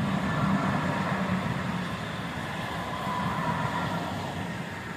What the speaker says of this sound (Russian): Носятся поезда.